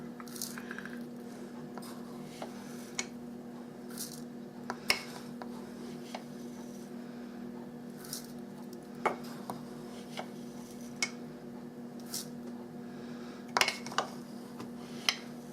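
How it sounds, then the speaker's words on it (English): Uncooked long grain rice is scooped from a rice container with a series of small, scattered clinks and scraping rattles over a low steady hum. "I'm getting it out of my rice bowl now, my rice container."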